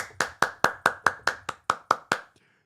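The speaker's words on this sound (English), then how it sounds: "But also, Josh, can we give a round of applause?" Eleven sharp, evenly spaced hand claps from a single pair of hands during a sports talk show, crisp and close, ending abruptly with no talk.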